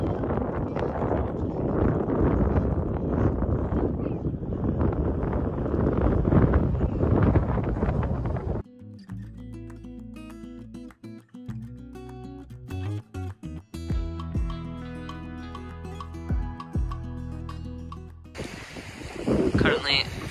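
Strong wind buffets the microphone by the waterfront in Scotland, a loud, roaring gusty rush that lasts about eight seconds before giving way to music, then returns briefly at the end.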